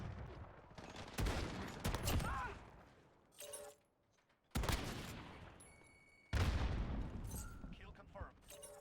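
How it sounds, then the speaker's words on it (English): An enemy sentry gun fires in a first-person shooter, with separate bursts of rapid automatic gunfire broken by short gaps, mixed with game effects. "Enemy sentry gun active."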